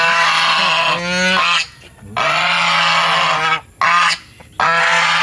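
Loud, close geese honking in repeated nasal bursts, several calls overlapping, with short pauses between outbursts, from farm geese kept alongside chickens, turkeys and goats.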